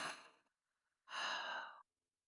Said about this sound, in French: Profonde expire par la bouche.